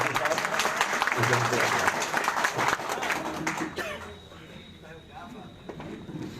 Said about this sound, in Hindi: मैं चाहूंगा कि आपका जोरदार तालियों से स्वागत करें